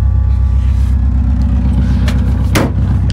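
A straight-piped Honda D15 VTEC engine idles with no muffler, giving a loud, steady low rumble with a lumpy pulsing beat, and one brief sharp noise partway through.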